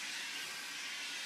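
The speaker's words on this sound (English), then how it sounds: "You want to saturate that with, get it wet with steam." A steam iron hisses steadily as it steams felt on a hat block, a brief continuous rushing hiss close by.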